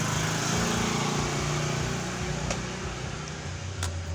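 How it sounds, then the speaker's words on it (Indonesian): A Honda Beat ESP motorcycle engine idles steadily after its wiring is reconnected, a close, continuous buzzing drone with a faint click partway through and no talk. "motor langsung hidup dan tidak ada kendala"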